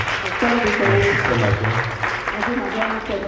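A church congregation applauding the Holy Spirit at a French-speaking service: dense, steady clapping fills the room throughout, with voices and sustained tones running beneath it.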